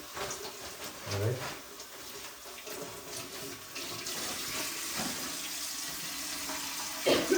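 Kitchen tap turned on and running, giving a steady rush of water that gets fuller partway through and ends with a brief clunk, with no talking.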